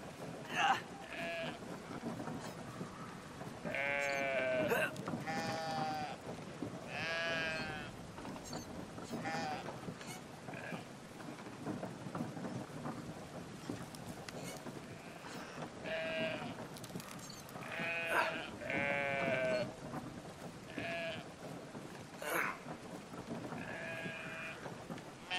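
Sheep in the video game Brothers: A Tale of Two Sons bleat repeatedly in wavering, nasal calls across the whole stretch, with a voice speaking at times between them.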